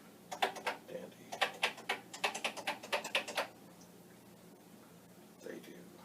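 Keys clack in quick, uneven bursts on a Commodore PET 8032 keyboard during a diagnostic check, close and crisp for about three seconds before going quiet, with faint background hiss.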